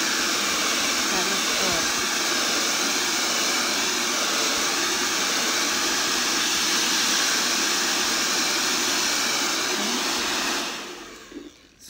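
A hair dryer blows steadily on wet paint, a loud, even whooshing hum that lasts about ten seconds before switching off and winding down near the end.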